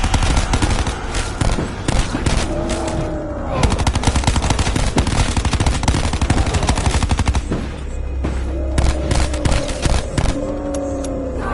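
Sustained automatic gunfire from Call of Duty zombies mode, rapid dense bursts running nearly the whole time, loud and continuous with brief lulls, with game sound effects mixed in.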